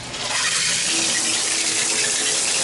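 Hot water gushes steadily from a bathtub tap in an apartment, a loud, even rushing that fills the whole moment with no voices.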